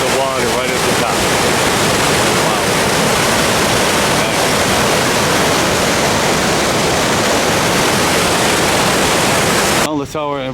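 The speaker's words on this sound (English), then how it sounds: "So there's the waterfalls going right over the water, right at the top." Waterfall at Grand Portage near Lake Superior, a loud continuous roar of rushing water filling the whole stretch, with brief wind-buffeted bursts at the start and end.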